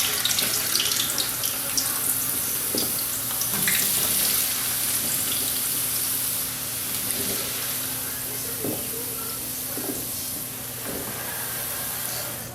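Cold potatoes frying in hot oil at around 350 degrees, a soft continuous bubbling sizzle with faint clinks, a voice briefly heard in the background.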